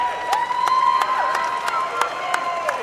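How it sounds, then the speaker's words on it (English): Crowd at a high school boys' varsity basketball game applauds and cheers steadily, with whistles and shouts over the clapping and sharp repeated squeaks or thumps punctuating the noise. "he still gets a big round of applause and some fives from his teammates"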